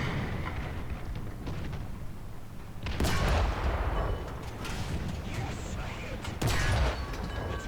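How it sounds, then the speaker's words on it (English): Artillery and tank gunfire in War Thunder around a T-26 mod. 1939 Russian light tank: a rumbling battle bed broken by two heavy booming shots, with scattered distant reports between them. "They're still firing at me."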